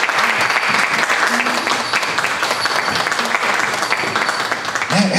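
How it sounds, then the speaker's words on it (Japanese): A concert audience applauds to welcome a trio of women performers onstage: loud, dense, continuous clapping from many hands, sustained evenly throughout. "どうぞ拍手でお迎えください"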